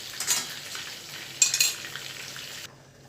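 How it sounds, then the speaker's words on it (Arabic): Potato-and-meat balls lifted out of hot frying oil, with crackling sizzle and a couple of sharp utensil clinks against the pan before the frying noise cuts out abruptly. "هطلع بقى الكفته بتاعتنا بعد ما اتحمرت في طبق"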